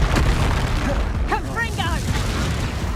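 A Reducto spell blast in Hogwarts Legacy lands as a loud, close burst of booming noise at the start, followed by rumbling debris and short grunting vocal sounds.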